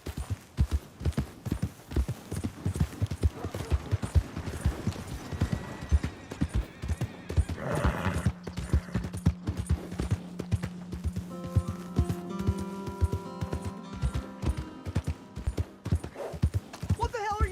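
A horse in the Red Dead Redemption 2 video game trots with rhythmic clip-clop hoofbeats, lets out a whinny partway through, and is joined by a low humming tone in the later seconds.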